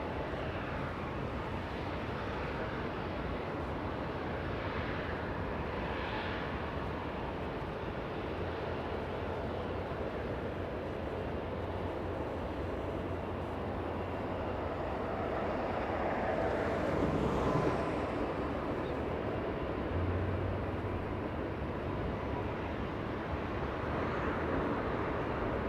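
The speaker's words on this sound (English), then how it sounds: "That is Turkish 10. Flying back to Istanbul. A 777-300 extended range." A Turkish Airlines Boeing 777-300ER jet departs Los Angeles International Airport bound for Istanbul, its engines making a broad, steady roar that swells slightly midway, heard at a distance amid wind noise.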